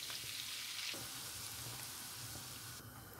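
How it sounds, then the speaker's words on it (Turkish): About 100 grams of butter, a glass of oil and flour frying together in a pan, a continuous soft sizzle with faint stirring scrapes, steady and close. "100 gram tereyağımı tavanın içerisine aldım ve eritiyorum."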